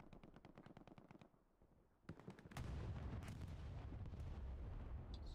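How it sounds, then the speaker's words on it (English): Explosion and gunfire in the video game Hell Let Loose: rapid machine-gun bursts, a brief lull, then a heavy blast that swells into a sustained roaring rumble, all fairly faint, with no talking. "So another explosion."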